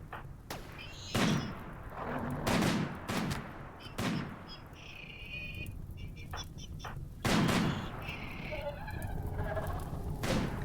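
Ranged weapons firing in a RimWorld battle, sparse sharp shots and thuds in irregular bursts, with electronic game tones in between.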